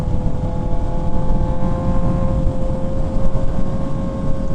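A sport motorcycle such as a Suzuki GSX-S750 or Kawasaki Z900 riding twisty back roads, its engine holding a steady droning hum under heavy wind rush, continuous and close.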